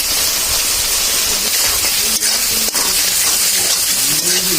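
Potatoes sautéing with dried chili powder in a pan give a loud, continuous hiss throughout, with a voice faintly audible underneath.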